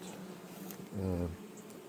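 Honey bees buzz at a hive being prepared for winter, a steady close drone with one louder bee humming past for a moment, no talking.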